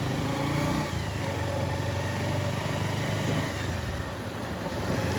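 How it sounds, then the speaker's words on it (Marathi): A car moving forward on a road with its engine running, a steady, loud broadband rumble and roar that holds throughout with little change. "पुढे जाऊन घे गाडी पुढे घे"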